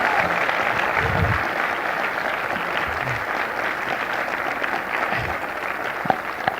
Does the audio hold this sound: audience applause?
yes